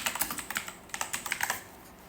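Fast typing on a computer keyboard, a quick burst of close, crisp key clicks lasting about a second and a half before stopping.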